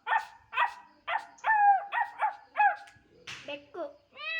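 A seventh-grade schoolchild mimics a dog, voicing a string of about ten short, sharp barks and yips in a steady rhythm, with a whimpering tone toward the end, heard up close without other noise.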